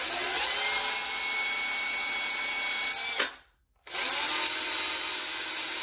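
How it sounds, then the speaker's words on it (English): A power drill whines loudly as it bores a hole into a kitchen soap dispenser, cutting out briefly for a moment of silence before spinning back up. "You can also move the drill bit around a little bit"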